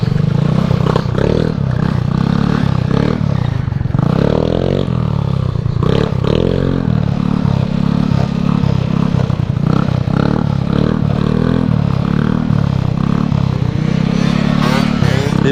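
A 120cc stroker motorized bicycle engine fitted with a Taida expansion pipe runs loud and close, its buzzing two-stroke drone rising and falling in revs with rattling clatter throughout.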